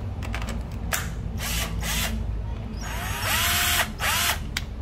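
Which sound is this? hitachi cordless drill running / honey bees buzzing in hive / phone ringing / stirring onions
hitachi cordless drill running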